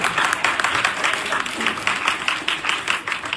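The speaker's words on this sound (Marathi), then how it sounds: "सरांसाठी एकदा जोरदार टाळ्या वाजवा सर्वांनी" An audience claps for a teacher at a student motivational seminar, a dense, continuous burst of many hands applauding loudly throughout, no voices.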